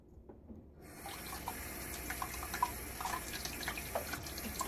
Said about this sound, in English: Let's put just a little bit more water in